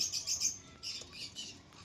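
Pigeons being shown for sale give short bright chirps and calls in close bursts across the clip, fairly quiet, with no talk.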